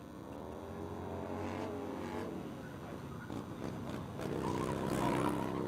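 A small Harley-Davidson Sportster motorcycle races around the Willow Springs International Raceway course in California, its engine droning and revving at a moderate distance, building louder near the end.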